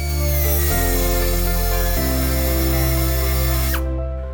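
A power tool cuts off a steel bracket hook during a skid plate install, a loud close whine that shifts pitch twice as it bites, then winds down and stops abruptly near the end.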